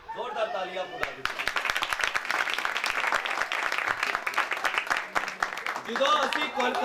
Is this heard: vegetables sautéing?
no